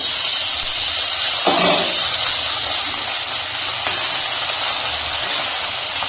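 Chopped tomatoes drop into a pan of frying onion and ginger paste, with a soft thump followed by a steady, loud sizzling hiss that keeps going.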